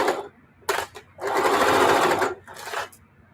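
A sewing machine runs in short bursts while sewing a seam: two quick stitching spurts, then a longer steady run of about a second, then a final brief burst. The whirring is close and clear, with no talk over it.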